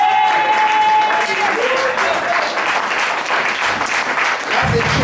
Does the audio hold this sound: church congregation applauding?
yes